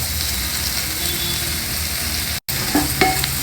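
Bitter gourds with salt and chili powder fry in a pan with a loud, continuous close sizzle and stirring, briefly cut to silence, then a few utensil clinks.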